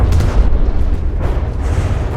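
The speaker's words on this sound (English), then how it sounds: "just look at those advanced cannons. They're so rapid fire." Advanced cannons in the naval combat game From the Depths firing rapidly, a dense continuous barrage of deep booming blasts that stays loud and low throughout.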